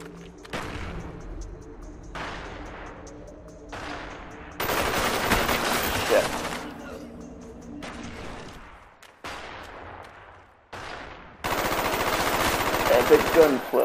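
Gunfire in a Call of Duty Black Ops Search and Destroy match: sharp single shots with ringing decay, then loud sustained automatic bursts, repeating in rapid close volleys separated by short gaps.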